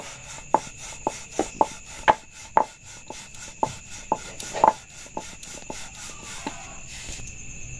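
Rolling pin working Dhakai paratha dough thin on a board, about a dozen sharp, evenly spaced taps and thumps under a faint steady hum.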